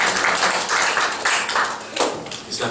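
Congregation applauding in a church after a prayer, a dense, steady wash of many hands clapping together throughout, fairly loud and close with no voices over it.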